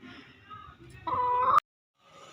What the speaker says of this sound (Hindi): और इधर मुर्गी साहिबा ने इतना शोर डाला हुआ है कि कोई हिसाब ही नहीं है।